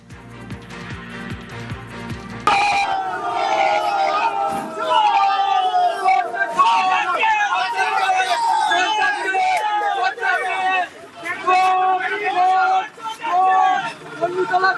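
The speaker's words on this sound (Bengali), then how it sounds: "ধৃতকে চোর চোর স্লোগান" A crowd chants 'chor chor' (thief) at an arrested Trinamool Congress leader held on extortion charges. The chanting is loud, dense and continuous, with overlapping shouting voices, and starts abruptly after a quieter opening.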